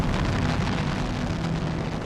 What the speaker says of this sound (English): the noise of the Saturn V is the loudest man-made sound on Earth